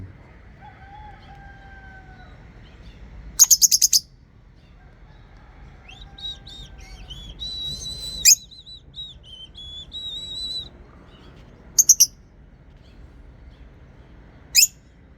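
Small lovebird parrots call and chirp nearby, with sharp bursts of shrill squawks between softer whistled tones and thin trills, scattered over a quiet background.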